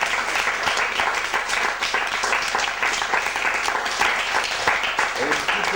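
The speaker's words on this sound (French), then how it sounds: "je voudrais que vous applaudissiez" An audience at a one-man show breaks into loud, dense, sustained applause, with many hands clapping steadily throughout.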